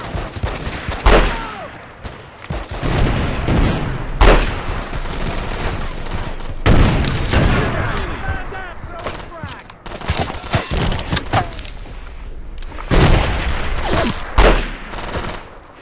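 Gunfire in the video game Battlefield 2142, with a grenade thrown: dense, loud bursts of rapid shots and heavy cracks come in repeated waves, with voices mixed in.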